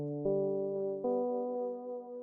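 A synth keys preset called Gumdrops plays two or three soft, sustained chords in succession, each held steady and ringing clearly at moderate volume with nothing else heard.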